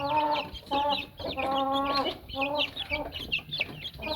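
Light Columbian Brahma fancy hens and roosters at a chicken farm in Karachi, clucking and squawking up close in repeated bursts, with several birds calling over one another.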